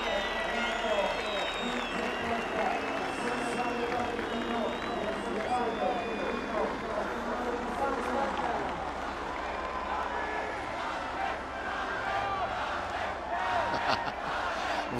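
Crowd at the 2017 San Marino MotoGP race at Misano chants en masse, a broad rhythmic roar of many distant voices with cheering and applause, while a commentator talks over it throughout.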